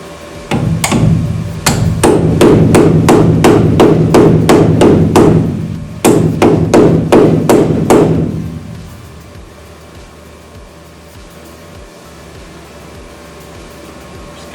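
Steady hammer blows on the wheel house of a Toyota MR2 SW20: two long runs of loud, evenly spaced metallic strikes, close up, with a short pause between them, then the blows stop and only a low hum remains.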